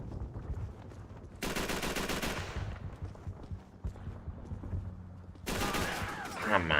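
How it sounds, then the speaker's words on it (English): Video game gunfire from Call of Duty 3 on Xbox 360: two loud bursts of rapid automatic fire separated by quieter rattling shots and background battle noise, with a brief voice between. "Who's shooting?"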